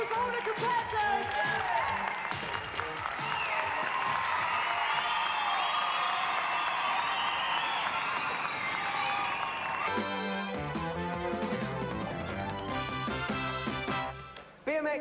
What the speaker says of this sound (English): let's have a big round of applause for all the competitors